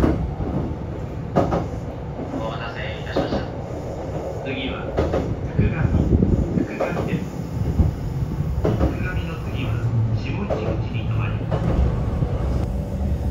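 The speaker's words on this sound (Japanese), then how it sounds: "列車は吉野口駅を発車いたしまして、しばらくはのどかな田園地帯を走行していきます" A Kintetsu rapid express train pulls away from Yoshinoguchi Station, heard from inside the carriage as a steady rolling rumble with rail clatter and occasional knocks, while a voice narrates over it.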